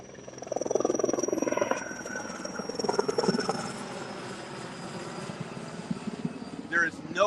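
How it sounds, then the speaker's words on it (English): A CAL FIRE firefighting helicopter carrying water flies past, its rotor roar swelling loud early then settling into a steady, slightly distant drone, with a brief sharp squeak near the end. "This is not a normal helicopter."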